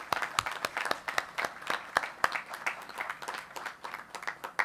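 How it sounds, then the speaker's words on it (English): A crowd at a shipyard christening ceremony for the ship Bay State gives a brisk round of applause, with dense overlapping claps that rise and fall over a few seconds. "Round of applause, please."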